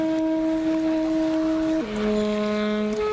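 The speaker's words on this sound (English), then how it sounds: "That is my alto saxophone." Alto saxophone holds a steady, reedy note, then steps down to a lower sustained note for about a second before breaking off. Played solo and moderately loud in a reverberant space.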